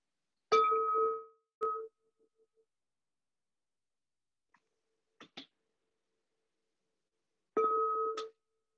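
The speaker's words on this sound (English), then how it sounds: "I'll just sound a bell softly to begin our meditation." A meditation bell struck softly, ringing out twice with clear sustained tones separated by long silence, with a few faint taps in between, in a quiet room.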